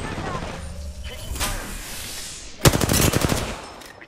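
Video game gunfire: a sharp burst of rapid automatic shots near the end, preceded by a single crack and mechanical ambience, with speech around it.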